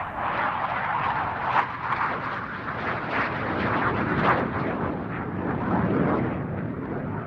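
A military jet training aircraft from RAF Valley flying an aggressive display at an air show, a loud, continuous roaring engine rumble with surging swells as it maneuvers, no speech.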